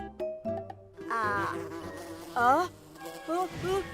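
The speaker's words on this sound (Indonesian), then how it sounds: "Wah, ada lebah." A small cartoon bee buzzes in short wavering bursts that swoop up and down in pitch, close and clear with no talk over them.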